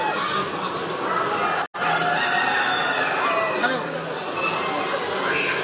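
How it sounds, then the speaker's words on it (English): Roosters crow amid clucking fowl in a busy poultry pavilion at an agricultural show. People talk under the steady bird noise, and the sound cuts out briefly partway through. "We're going to have one last look at a rooster"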